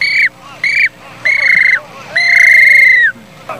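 A man whistles imitations of Brazilian bird calls such as canary, dove and bem-te-vi, giving a run of loud, clear tonal notes, several short and then one long held call, close by with no talking.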